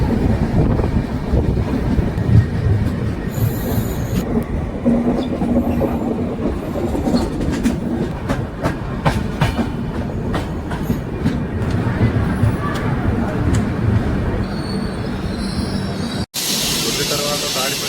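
Ap Sampark Kranti Express train running at speed: a loud, continuous rumble of wheels on rails with rhythmic clickety-clack, wind noise across the microphone and occasional metallic squeals, heard from inside the moving train.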